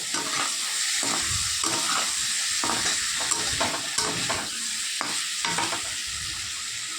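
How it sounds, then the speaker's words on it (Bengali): Spices, potato and pointed gourd are stir-fried together for a fish curry, a continuous close sizzle broken by repeated scraping strokes of a spatula against the pan. "তো তারপর দেখো মশলাটা ভালো করে কষিয়ে নেব আলু পটলের সঙ্গে"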